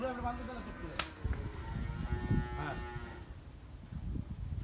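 A large milk cow moos loudly up close, low and drawn out, amid background voices and the noises of a busy livestock area.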